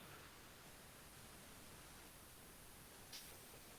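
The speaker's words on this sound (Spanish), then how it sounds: "aparece el ruido blanco. Acá mismo se los pongo." Broadband white noise from a signal-generator source library plays steadily at low level with no talk, an even hiss across the whole clip apart from a faint brief bump near the end.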